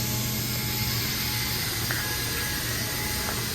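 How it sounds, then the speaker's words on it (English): Vacuum suction on a CNC stone table holding a slab: a loud, continuous mechanical hum and whir, steady throughout with faint tonal whines and clicks in the background. "You'll hear it sucking"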